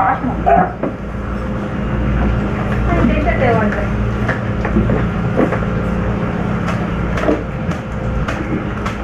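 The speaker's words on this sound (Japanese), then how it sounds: "あ電車" A train rumbles past close by with a steady low roar and some clattering, while people talk over it.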